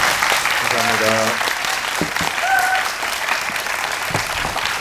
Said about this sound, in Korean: 크게 한번 박수 좀 쳐주세요